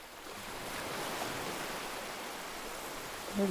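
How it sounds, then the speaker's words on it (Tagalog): Ocean waves washing onto a beach, a steady close wash of surf noise with wind, no talk. "The wave is so beautiful."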